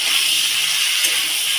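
Banana pieces fry in hot oil, a steady close hiss with a soft sizzling texture and no other sound.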